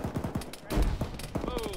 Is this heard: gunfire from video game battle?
yes